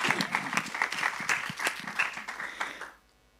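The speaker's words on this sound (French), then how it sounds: "On peut l'applaudir" Audience applause after a personal testimony at a French-speaking Christian gathering, a dense run of many hands clapping at close range that holds steady for about three seconds and then stops abruptly, leaving near silence.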